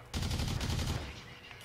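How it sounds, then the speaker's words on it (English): Explosive burst of a grenade going off in the first-person shooter Blacklight: Tango Down, a dense loud blast with rapid crackling that lasts about a second, then fades into quiet game ambience. "That's a regular grenade. That ain't no digital grenade."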